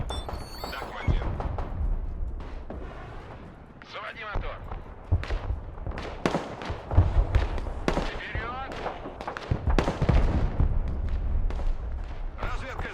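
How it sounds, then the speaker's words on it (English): Artillery fire in the war game Broken Arrow lands as repeated sharp booms and blasts scattered throughout, mixed under near-constant talking. "Enemy artillery coming in on that building."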